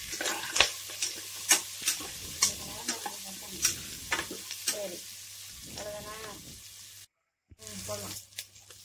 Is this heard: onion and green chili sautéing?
yes